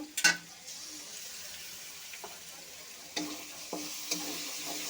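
Green chili paste stir-fries in a pan for a potato and egg curry, giving a moderate steady sizzle with a sharp clank at the start and a few scraping stirs.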